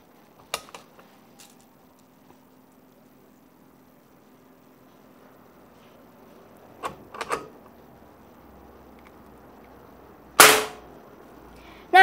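A PCP air rifle, the Sanaji Neoclass OD 2, fires a single sharp, loud crack near the end, after a few faint clicks and handling knocks in an otherwise quiet setting.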